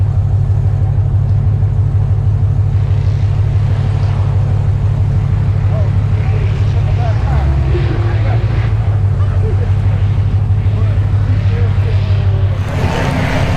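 Hellcat-powered Cuda idling loud and steady at a drag race launch line, a deep continuous engine rumble with wind buffeting and voices talking over it throughout.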